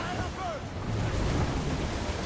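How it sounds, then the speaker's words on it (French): A strong headwind blows at sea while sailing a ship in Assassin's Creed IV: Black Flag, a loud steady rush of wind and surf noise with no break. "le vent il souffle à très très forte allure et pile poil dans le sens contraire où on va"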